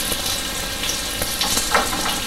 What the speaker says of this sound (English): we drop that into the hot oil